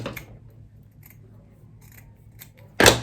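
Scissors trimming fabric for a draped cowl dress, a few faint soft snips and ticks, then one loud close clack near the end.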